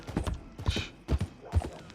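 Horse hooves clip-clopping while riding in the video game Red Dead Redemption 2, with three or four evenly spaced, close, moderately loud hoof beats in a steady gait rhythm.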